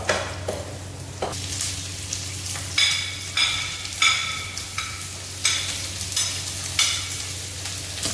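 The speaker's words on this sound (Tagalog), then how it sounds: "At halo-haloin na natin ito hanggang sa maghiwa-hiwala yung ating sibuyas" Onions fry in a hot pan for a sweet and sour fish dish, a steady sizzle broken by repeated scraping stirs at a regular pace, close and clear with no talk.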